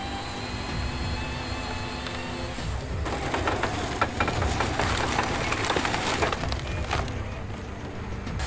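A 149-horsepower engine on a stump removal machine roars steadily and loudly in a forest, with a rough grinding, splintering layer of wood being chewed up throughout.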